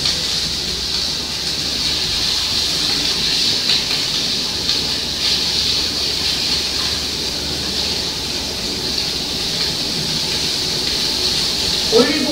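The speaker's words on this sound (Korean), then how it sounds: "베이컨이 어느 정도 볶아졌으면 삶아진 스파게티 면을 넣어주고 올리브 오일을 부어줍니다." Bacon and boiled spaghetti frying in olive oil in a pan for carbonara, a steady loud sizzling hiss that runs throughout, with faint stirring clatter beneath.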